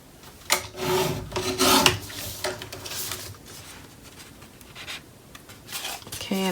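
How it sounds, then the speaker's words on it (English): Paper being trimmed for a Graphic 45 scrapbook mini album, with several short rasping cutting strokes close by, then quieter scraping and handling sounds. "so I'm going to trim off another bit."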